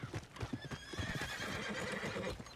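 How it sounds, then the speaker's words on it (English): A horse in the video game Red Dead Redemption 2 whinnies while its hooves clop rhythmically nearby, several quick hoofbeats beneath a drawn-out neigh. "Alright, now our horse is close enough we can listen to it."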